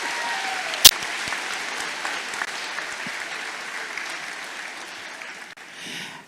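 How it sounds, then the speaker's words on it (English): Another round of applause for award recipients at an eighth grade promotion ceremony: steady crowd clapping fills the room at moderate level, with one sharp clatter early on, fading gradually toward the end. "Let's have another round of applause for all of our recipients."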